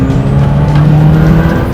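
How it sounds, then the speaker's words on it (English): A 1973 BMW 2002 Turbo engine revving hard in second gear from around 3,000 rpm, a loud close droning tone rising steadily in pitch with a rough, buzzy exhaust edge and no talking. "I want to show you what the turbo's like."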